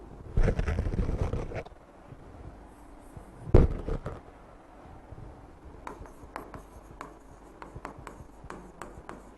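Pen writing during a medical lecture on drug doses for children: a burst of scratchy scribbling, a loud knock, then short intermittent strokes and taps, close and alone without talk.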